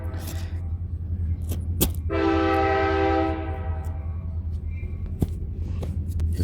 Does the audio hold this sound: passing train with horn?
yes